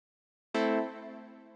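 A single bright synth chord hits sharply after a short silence, then rings out and fades slightly.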